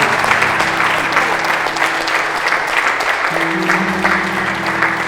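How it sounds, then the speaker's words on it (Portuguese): A church congregation clapping for Jesus, sustained loud applause from many hands filling the room, with sustained musical tones joining underneath partway through. "Vamos dar palmas para Jesus."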